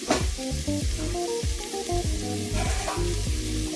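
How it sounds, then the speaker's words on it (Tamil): Tomatoes sauté in a pan for green peas kurma, a steady close sizzle running beneath melodic background music. "தக்காளி இந்த அளவுக்கு வதங்கினா போதும்"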